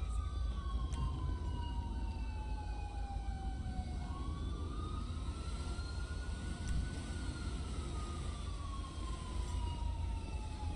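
In the LSPDFR police game mod with South African police, an ambulance siren wails steadily in long rising and falling sweeps, loud over a constant low engine and road rumble.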